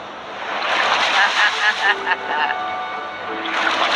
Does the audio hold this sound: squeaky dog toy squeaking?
no